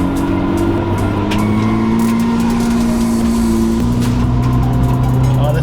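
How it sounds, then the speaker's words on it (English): A Nissan R32 rolls slowly in low gear around a building, its engine a steady, loud drone from inside the cabin that shifts pitch slightly partway through. "Back in an R32. Just gonna drive it around the building here."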